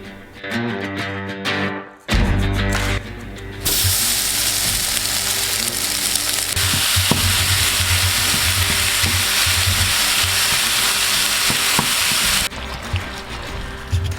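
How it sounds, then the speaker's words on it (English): Jimmy Dean hot breakfast sausage browning in a pan for smoked queso dip, a loud continuous sizzle that swells after a brief opening clatter and stays strong to the end. "take our hot sausage, the Jimmy Dean breakfast sausage that we got, and we're gonna brown it"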